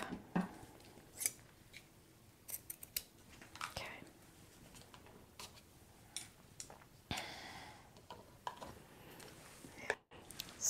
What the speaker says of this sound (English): Let me just cut a length.